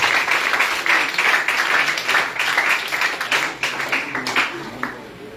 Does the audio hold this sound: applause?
yes